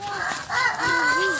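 Pet chickens in a backyard flock crowing and clucking, a rooster's drawn-out calls rising and falling over steady clucking, loud and close throughout.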